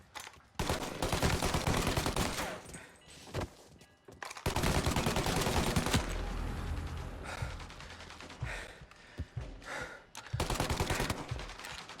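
Gunfire from the video game Mafia Definitive Edition: dense bursts of rapid shots and loud volleys that keep going for several seconds, with brief pauses between the bursts.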